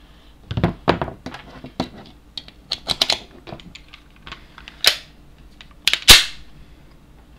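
A Springfield Armory XD .45 ACP pistol is handled to chamber a round. Close, sharp metallic clicks and clacks come in irregular bursts, with a louder slide snap near the end.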